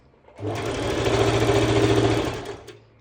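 A sewing machine runs up close while stitching an elastic skirt waistband, a steady rapid mechanical whirr lasting about two seconds that starts and stops cleanly, with no talking over it.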